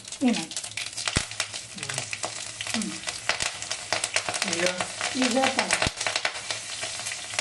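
Green chillies fry in a hot pan for a potato veg biryani, a steady close sizzle with crackling bursts and occasional stirring scrapes, while a voice talks quietly at times underneath.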